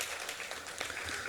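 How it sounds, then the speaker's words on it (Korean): A church congregation at a Sunday morning service claps together in a steady, dense round of applause that sounds somewhat distant and soft. "다시 한번 박수 한번 올려드리겠습니다"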